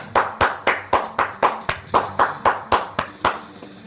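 A crowd applauds at a wrestling event, heard as a quick, even run of about fourteen sharp, close claps with no voices.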